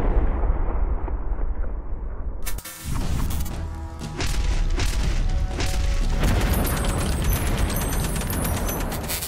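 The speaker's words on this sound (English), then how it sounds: "we are shooting the Smith & Wesson 500 using the 500 grain projectile from Hornady" Smith & Wesson 500 revolver firing Hornady 500-grain rounds outdoors: a sharp, very loud boom that cuts into steady background noise, followed by a long rumbling echo and dense, broadband noise that persists to the end.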